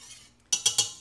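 A spoon stirs a thickening potato-cheddar beef casserole sauce in a pot, giving three quick metallic scrapes and clinks close up after a brief quiet start.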